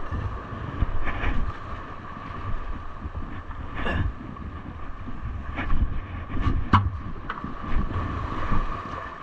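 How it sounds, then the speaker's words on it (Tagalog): Rough sea in a typhoon batters the shore while strong wind buffets the microphone, giving a continuous low rumbling roar with a steady hiss and occasional sharper gusts and splashes. "Galit na galit yung alon."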